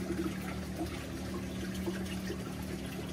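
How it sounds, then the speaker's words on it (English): Steady water splashing and trickling as aquarium water overflows like a small continuous waterfall into the return section of a sump tank, constant level throughout with no talking. "this kind of diffuses the sound because it's like a waterfall. It falls down into the return section."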